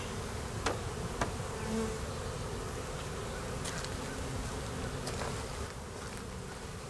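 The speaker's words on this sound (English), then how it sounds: "for January, this is a huge, huge population of bees" Honeybees drone in a continuous, close buzz inside an open hive during a January inspection, with a few sharp clicks and knocks from handling the frames.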